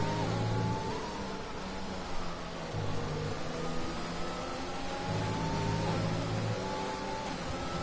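Racing karts lapping a track in a kart race, their engines droning and whining steadily at middle distance as several pass, with faint commentary underneath.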